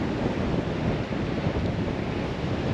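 Strong wind buffets the microphone on an empty sandy beach at Sedonia, a seaside village on the south coast of Crete. Waves and surf rumble underneath in a dense, continuous roar, with no voices.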